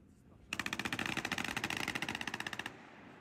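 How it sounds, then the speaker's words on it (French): Small-calibre military weapons fire a rapid automatic burst of about two seconds during training in hot weather, sharp evenly spaced shots ringing out at moderate distance. "Seuls les plus petits calibres ont tiré à cause des risques d'incendie."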